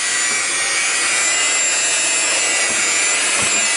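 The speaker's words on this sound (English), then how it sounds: "I'm just kind of turning this bowl with my spoon" A spoon scrapes and turns homemade bread dough around a bowl, a steady gritty rubbing and scraping that runs continuously and close up with no talk.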